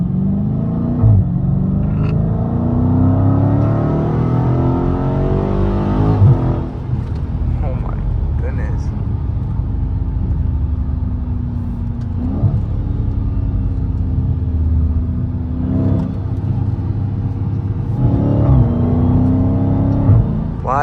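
A Dodge Challenger Scat Pack with a 392 engine pulls hard along a highway, a loud low rumble rising and falling through several gear changes, with a whine and speech in the cabin.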